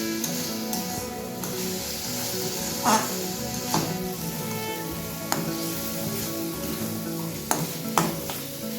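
Spice paste stir-fried in a pan over a high gas flame, a steady low sizzle punctuated by scattered spatula scrapes and knocks against the pan, close and moderately quiet.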